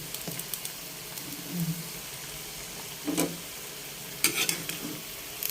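Sautéed vegetables with sardines are stirred in a pan over a soft, steady sizzle, with a few scraping strokes of the spatula against the metal.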